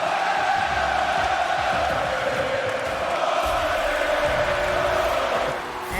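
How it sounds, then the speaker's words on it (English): A loud, steady crowd roar fills the arena at a Rocket League esports match at DFH, sustained and dense throughout with no clear breaks. "as the crowd is rocking here at DFH"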